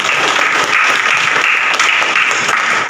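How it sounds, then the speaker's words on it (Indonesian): Steady, dense applause from a classroom of students for a classmate during a mathematics lesson, loud and continuous throughout with no talking over it. "Nah, tepuk tangan dulu untuk Aira."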